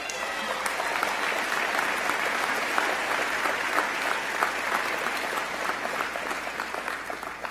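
Sustained applause from an audience at a university commencement honoring award-winning students, dense steady clapping filling the whole stretch at a moderate distance, with no voices standing out.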